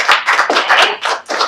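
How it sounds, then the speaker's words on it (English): An audience at a talk on living and working with vision loss claps together, a dense burst of many hands that swells and dips in a few waves over a second and a half, fairly loud, with no talk. "So, if I can just get some audience participation by clapping."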